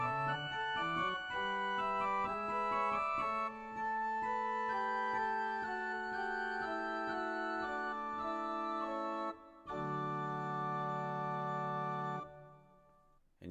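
A chain of 2-3 suspensions in the upper voices over a sustained dominant pedal point, in Italian Baroque style; sustained, rich tonal harmony with slowly resolving chords above a steady low bass note, moderately quiet and without speech.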